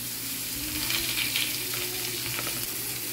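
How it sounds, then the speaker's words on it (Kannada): Fish sizzling and frying in hot oil in a pan, a steady crackling hiss with occasional spitting bursts, close and continuous with no talking. "ಈಗ ಮೀನು ಫ್ರೈ, ಬಿಸಿ ಬಿಸಿ ಮೀನು ಫ್ರೈ ಎಲ್ಲರಿಗೆ ಈಗ ಫ್ರೈ ಮಾಡ್ತಾ ಇದ್ದೇನೆ"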